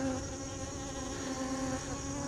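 Honey bees drone steadily around a frame lifted from a honey super, making a close, continuous buzzing hum with a slightly wavering pitch and no other sounds.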